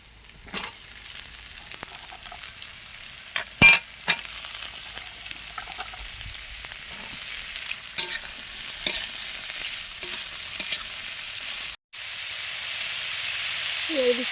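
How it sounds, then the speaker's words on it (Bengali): Potatoes hiss and crackle in hot mustard oil with lightly fried onion and dried chilli in a kadai on a clay stove. The close, steady sizzle runs throughout, punctuated by clattering stirs and one abrupt break. "এবারে আলু দিয়ে দিচ্ছি"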